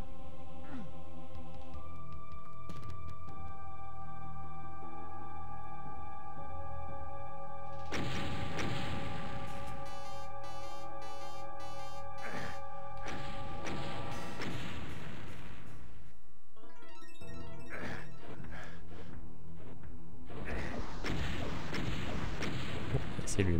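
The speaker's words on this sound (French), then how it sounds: "Peut-être ces explosions, c'est assez démentiel." Rocket explosions and heavy blasts boom repeatedly in the Doom Sigil game, loud bursts layered over droning in-game music with short gaps between impacts.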